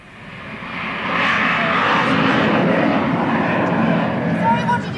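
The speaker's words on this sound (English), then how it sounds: "I said we seem to be on the flight path again today. I wonder who was in that plane." An airplane passes overhead with a loud, broad engine roar that swells over a second and then holds steady, fading slightly toward the end, with no voices over it.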